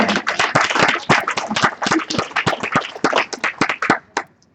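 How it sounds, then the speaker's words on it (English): Executives standing in a room at a company training event receive a round of applause, loud close hand claps in a brisk, irregular burst that tapers off near the end. "Let's give them a round of applause."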